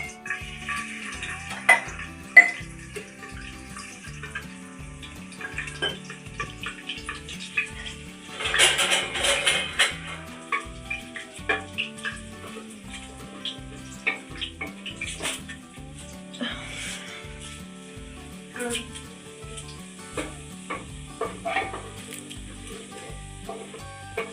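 Garlic fries in a pan as a tempering for beans, giving a steady low sizzle with occasional clinks of utensils against the pan throughout.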